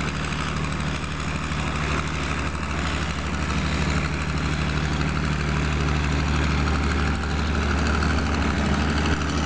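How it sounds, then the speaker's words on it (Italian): Several engines roar steadily at full throttle in a race, a dense continuous drone with strong low hum and no talk over it. "adesso quello sta accelerando a tutta manetta, l'altro anche, fanno a gara per vedere chi arriva prima"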